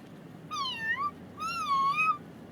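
A person imitates a kitten's meow with two clear, drawn-out, wavering mews, close and fairly quiet, and no one talks during them.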